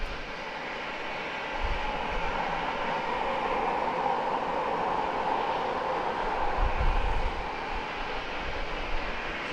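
A FedEx heavy jet takes off from runway 27 in San Diego at twilight, its engines a broad, steady roar with a rumbling low end that holds throughout.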